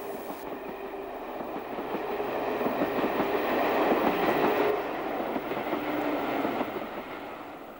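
Diesel locomotives haul a rail tour train toward Penzance in Cornwall, a steady rumbling engine drone with faint clickety-clack of wheels building as it passes fairly close, then easing slightly, with no voices.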